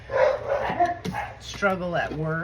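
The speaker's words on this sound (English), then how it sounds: "Sorry for the dogs." Several dogs bark and yip close by in a home, heard under a person speaking.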